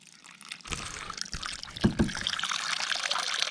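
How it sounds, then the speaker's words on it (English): Water is poured out for a dog to drink at an off-grid campsite, a brief splashing trickle with a couple of close sloshing bursts over quiet outdoor ambience. "Watering the dog."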